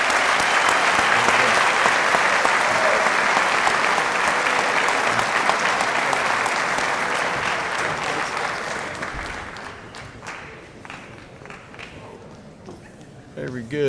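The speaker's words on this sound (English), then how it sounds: "Please give them a round of applause." Banquet audience applauding a high school freshman football team, dense sustained clapping from a large crowd that fades out after about nine seconds, leaving scattered claps and room noise.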